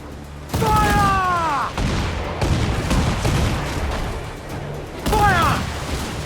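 Ship cannons firing broadsides in Assassin's Creed IV Black Flag, heavy booming volleys with rumbling impacts, whistling projectiles and mechanical clatter, shouted orders over the bombardment.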